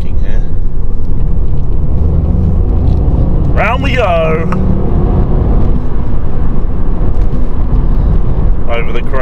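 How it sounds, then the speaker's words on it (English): A Mini cruises in fifth gear with a steady engine drone and road and wind rumble filling the cabin, constant and loud, with a brief sweeping whine partway through. "Put it into fifth gear, chilling, we're cruising"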